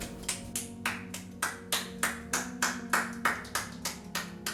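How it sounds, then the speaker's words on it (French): A small group at a gender reveal party claps in a steady, even rhythm, about a dozen sharp claps in a row, close and clear with little else around. "On peut l'applaudir."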